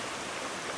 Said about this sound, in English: So I'm pretty sure this creek is Birthday Creek.